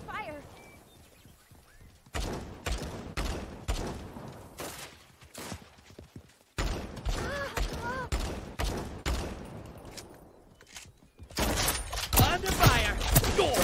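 Gunfire in the online battle royale game Realm Royale comes in repeated sharp bursts of shots with short pauses between them, heavier and denser toward the end, while a voice speaks over parts of it.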